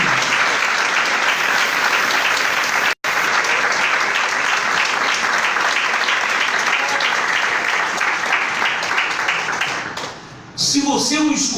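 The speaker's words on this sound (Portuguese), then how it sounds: "aplauda Jesus e diga: Ele" Church congregation applauding in a Portuguese-language service: dense, loud sustained clapping for about ten seconds with a brief dropout, fading out at the end as voices return.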